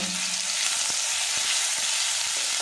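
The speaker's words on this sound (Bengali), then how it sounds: "এবার গ্যাস হিটটা একদম মিডিয়ামে রেখে এটা ভালো করে ভেজে নেব" Dry ground coriander leaf and curry leaf paste frying in oil over medium heat, a dense, continuous hiss of sizzling with faint stirring knocks, close and even throughout.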